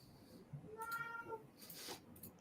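A live cat meows at a moderate distance, giving one drawn-out tonal meow followed by a shorter cry, heard through faint room noise and low background chatter.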